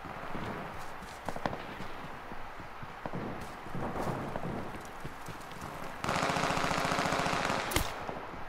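Gunfire in the H1Z1 battle royale video game aimed at the player, a dense run of rapid shots and impacts over busy game noise, growing louder and more sustained near the end.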